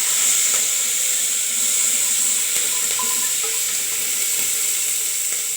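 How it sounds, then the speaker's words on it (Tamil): Small sambar shallots and garlic, with chillies, are sautéed in a pan, producing a steady, soft hiss of sizzling oil that stays even throughout, with no talking. "சாம்பார் வெங்காயம் பூண்டு இதை போட்டு நல்லா வதக்கிக்கலாம்"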